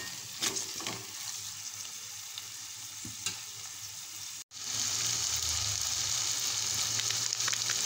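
Green chillies and tomatoes sauté in a pan for a village-style spicy fish curry, giving a steady soft sizzle and frying crackle with a brief stir and a short break midway, with no talking.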